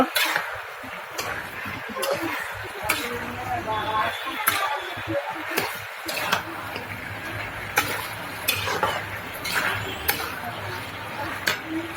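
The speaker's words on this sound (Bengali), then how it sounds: "আমি এখন তরকারিটা কষাই নেব" A pumpkin curry is stir-fried in a pan at home, a steady close sizzle with repeated sharp clicks and scrapes of a utensil against the pan, while a person talks over it.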